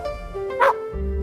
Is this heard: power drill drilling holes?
no